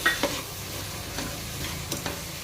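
Mixed beans and legumes frying in a hot oil tempering, a continuous close sizzle broken by several sharp spoon-stirring clinks and scrapes, with no voices.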